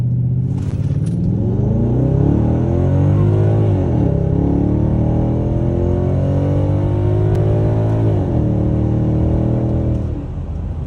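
A BMW X5 E70 with a 4.8 liter V8 launches from 0 to 60 in sport mode, engine roaring loudly up through the revs with two clear drops at gear shifts before climbing again, close and uninterrupted.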